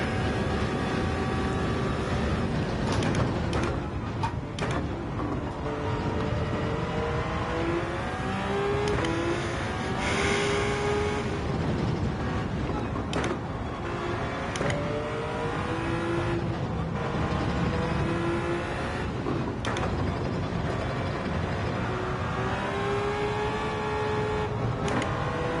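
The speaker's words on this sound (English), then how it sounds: "there's cars coming out of the pits" Race cars pulling out of the pits in Gran Turismo 7, a continuous engine drone with rising and falling revs and shifting pitch throughout, fairly loud and steady, with no talking.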